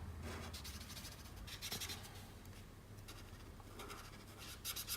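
A clay-colored Pro Marker scratches and rubs across paper in steady close strokes, filling small areas of a Pathfinder drawing, with soft intermittent squeaks of the felt tip.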